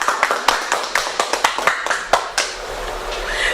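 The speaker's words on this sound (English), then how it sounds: "Give them a big round of applause." Audience at a middle school event applauding, a lively burst of many hands clapping close by, sharp and uneven, fading out after a few seconds.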